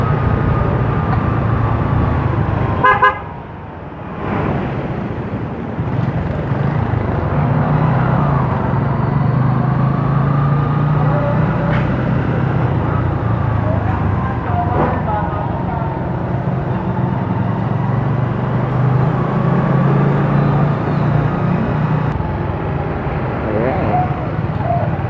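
Riding a motorbike through Bulacan road traffic gives a continuous engine drone and wind rush, with a brief dip early on and talking over the steady road noise.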